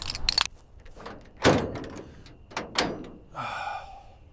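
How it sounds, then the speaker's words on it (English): The rusted, long-stuck door of a 1956 Ford F-100 truck is forced open with several metallic clunks and thuds and a scraping creak, close and loud. "50 years and this door hasn't opened once."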